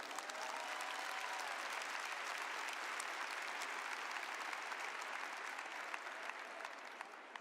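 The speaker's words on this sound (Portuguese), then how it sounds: "Aplauda essa palavra" A church congregation claps during a sermon by a friar, sustained even applause heard somewhat distant and soft, running steadily throughout before tapering slightly at the end.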